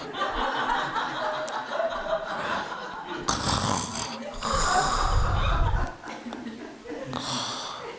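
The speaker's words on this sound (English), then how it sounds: "You see how the snoring changes when she is woken up." A woman snores with heavy, rough breaths that shift and break up, mixed with snorts and a voice calling to her over the sound.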